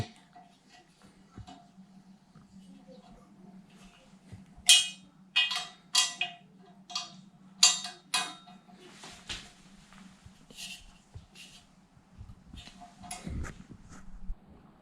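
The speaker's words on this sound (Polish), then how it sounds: "Tak więc dokręcamy tutaj do oporu" Screws are tightened by hand on an IKEA SKARSTA height-adjustable desk, producing a series of sharp ratcheting clicks and metal ticks in short bursts over a steady low hum, with a voice speaking quietly in places.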